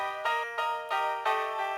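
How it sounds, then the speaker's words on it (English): M-Tron piano preset run through the iZotope Vinyl lo-fi effect on its 1930 setting, playing a short series of sustained chords, alone and fairly quiet, with a dull, muffled tone. "I'm just adding this free plugin from Isotope called Vinyl on the 1930 setting."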